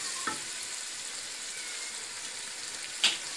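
Mutton pieces fry in a pan for mutton palak, producing an even, bright sizzling hiss close by, with a faint tap early on and a sharper clink or spatter near the end.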